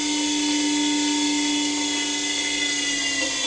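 Siemens electric motor driven by a DMOC 645 controller, unclamped on a bench, spinning under regenerative braking: a steady high electric whine with layered tonal harmonics, loud, close and continuous, no talking.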